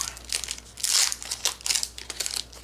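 Magic: The Gathering Eternal Masters booster packs being unwrapped, with bursts of crinkling foil and plastic wrapper tearing and rustling close by, several quick handling sounds in a row.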